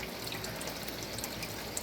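Water pours steadily into a garden pond, a soft continuous trickling splash heard faintly and alone.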